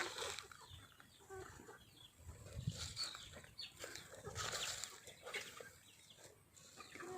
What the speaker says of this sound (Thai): อาหารน้องไก่ป้านะคะ